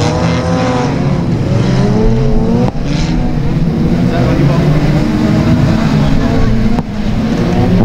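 Rear-wheel-drive dirt rod race cars racing and spinning at Stansted Raceway, loud continuous engine roar with rising and falling revs and layered motors, under steady commentary throughout.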